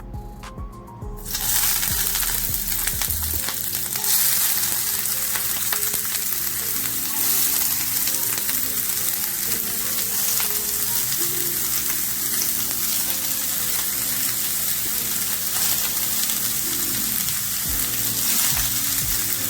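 Ackee and saltfish cooking in a pan on a low stove, a dense, even sizzle that holds steady for almost twenty seconds, with faint crackles throughout and a brief clatter at the very start.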